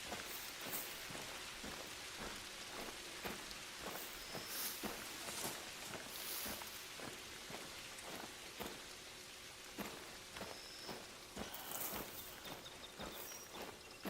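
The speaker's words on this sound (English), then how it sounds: "Let's see what he does as it begins to rain." Steady rain in the hunting game The Hunter: Call of the Wild, a constant hiss with soft irregular ticks and footstep-like thumps, quiet and without talk.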